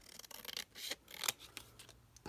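Scissors snipping a small piece of ATC artist trading card, a few short dry cuts close by and quiet, with no talk.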